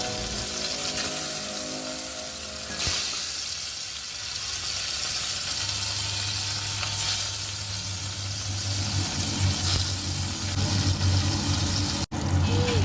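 Paneer pieces fry lightly in mustard oil in a kadai, producing a continuous bright hiss at moderate loudness with faint stirring and a watery, tap-like wash under background music.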